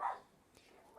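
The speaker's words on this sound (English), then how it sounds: "Dog bark in the background?" Two soft, distant barks from a house dog in the background, one at the start and one at the end, faint and muffled in an otherwise quiet room.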